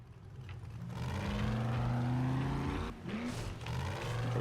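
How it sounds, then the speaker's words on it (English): A truck driving in the survival video game 7 Days to Die, its engine droning steadily with rising tonal whine, fairly faint and continuous with a brief dip near the end. "drive the truck out the other side"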